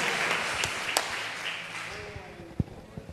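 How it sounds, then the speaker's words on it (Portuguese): Worshippers applaud Jesus at the close of a church service, a broad wash of clapping that slowly thins out while a voice speaks over it. "Palmas para Jesus"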